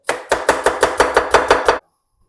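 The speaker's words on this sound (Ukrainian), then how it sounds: "Дуже-дуже тоненько її нарізаю." Eight quick, evenly spaced knife chops thinly slicing an onion on a board, crisp and close, then sudden silence.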